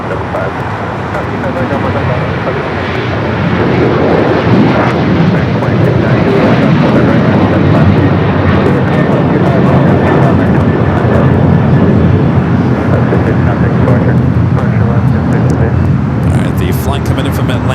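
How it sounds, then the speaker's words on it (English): An Eva Air Boeing 777-300ER departs Los Angeles bound for Taipei, its jet engines producing a broad, steady roar that swells after a few seconds and holds loud and sustained, with faint talk beneath it. "So south side action for Eva Air as it heads back to Taipei in this 777-300ER"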